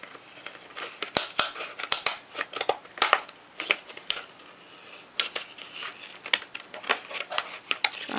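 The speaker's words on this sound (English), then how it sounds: "So I'm going to do a rough cut with my scissors." Sharp, irregular snips and crunches of scissors roughly cutting through stiff plastic for fursuit eyes, close by, in quick uneven bursts with short pauses between.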